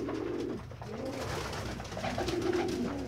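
Pigeons coo close by in a loft, a soft, continuous, low throaty murmur rising and falling in rounded phrases throughout, with no talk over it.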